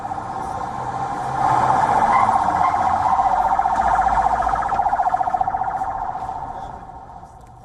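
Emergency vehicle sirens from ambulances racing out of Nasser hospital in Khan Yunis, Gaza, a loud wailing tone that rises and holds steady for several seconds before slowly fading.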